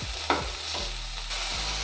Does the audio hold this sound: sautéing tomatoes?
yes